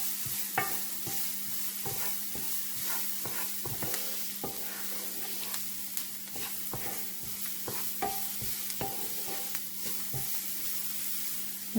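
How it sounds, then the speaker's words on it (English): Onion and garlic cooking in a pan, stirred with frequent sharp scraping taps over a continuous low sizzle and a steady hum, close and with no voices. "I've also got 3 cloves of garlic. And same thing, we're just going to cook that"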